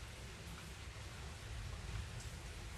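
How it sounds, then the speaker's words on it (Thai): Rain falling outdoors in Germany, a steady hiss of drops on surfaces with a low rumbling undertone, constant and moderately faint, with no voices. "ประเทศเยอรมันฝนตกแล้วจ้ะฝนตกเกือบทุกทุกมือเลยจ้ะ"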